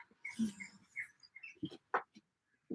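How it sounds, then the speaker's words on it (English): Magpies call outdoors in short harsh chattering bursts, scattered and fairly faint, with gaps of near silence between them. "Magpies are being particularly noisy."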